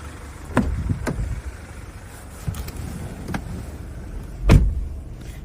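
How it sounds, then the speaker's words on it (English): The electric tailgate of a Jaguar F-Pace diesel SUV whirs open, with a few short mechanical clicks and a louder motor surge near the end, close and clear with no talk. "we can see that the boot is electric."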